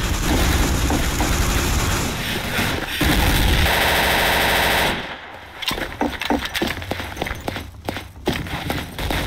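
Gunfire in the World War II shooter Day of Defeat: Source on the Venice map, loud sustained machine-gun bursts followed by scattered single shots and rapid volleys, close and punchy.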